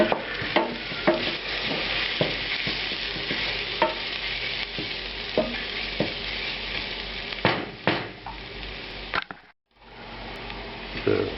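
Shrimp with ginger and garlic frying in a pan, a dense continuous sizzle broken by repeated clinks and scrapes of a utensil stirring, ending in a brief cutoff.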